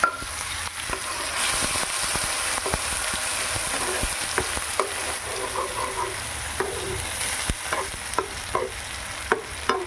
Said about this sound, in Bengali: এইটা যখন ভাজা হচ্ছে মশলাটা